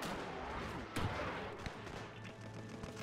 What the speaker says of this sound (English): Was that an old rolling block rifle?